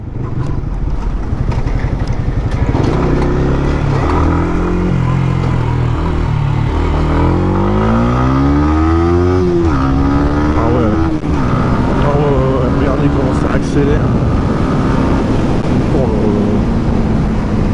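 A 2020 Yamaha MT-125 motorcycle accelerating, its engine loud and close throughout, pitch climbing through gear changes in rising sweeps, with a rider's voice faintly under the engine noise.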